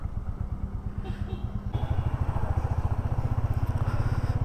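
A motorcycle rides on the road from Pali Ballaleshwar to Mahad on a Pune Ashtavinayak bike trip. Its engine gives a steady, close, rhythmic low thrum with some clatter, and the note rises slightly partway through.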